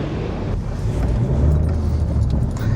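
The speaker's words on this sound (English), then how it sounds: "That was a lorry, ladies and gentlemen" An articulated lorry passes on the road, heard from inside an Audi as a loud motor rumble that swells toward the middle and then eases off, with no talking.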